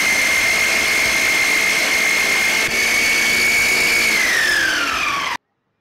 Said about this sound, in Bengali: আমি যদিও চপারে কাটছি